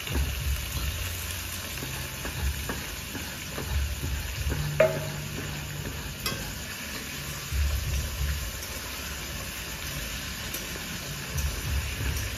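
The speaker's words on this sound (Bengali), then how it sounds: "তেল গরম হয়ে গেছে, আলুগুলো ফেলে দেবো" Potatoes fry in hot oil with dried chillies and cumin, giving a steady, close sizzle throughout with one brief clunk partway through and no voices.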